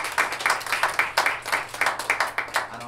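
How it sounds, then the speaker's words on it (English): An indoor audience gives scattered, moderately loud applause for female athletes, with rhythmic rounds of clapping that continue throughout. "So let's give the ladies a round of applause."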